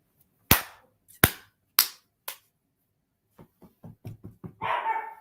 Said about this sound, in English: The barking is ridiculous sometimes.